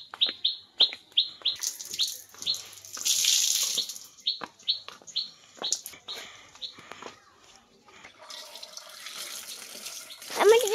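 Tap water runs into a kitchen sink as cut food is rinsed for frozen iftar prep, with clattering handling and bird chirps nearby; a voice speaks briefly and the flow swells louder toward the end.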